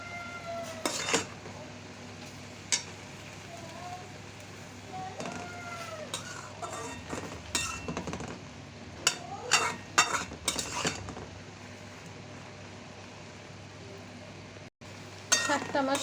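Boiled helencha greens being stirred in a pot, with scattered clinks and scrapes of a utensil against the metal over a low steady background hum. The sounds are close and intermittent, with a faint voice at times.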